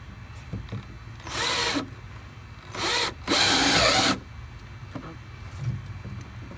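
Power drill driving coated square-head Craig screws into wood for a raised garden bed, three short whirring bursts with the last the longest, close by amid quiet outdoor background.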